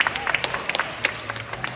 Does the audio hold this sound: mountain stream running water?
no